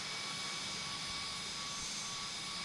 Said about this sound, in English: there goes JetBlue, Embraer 190.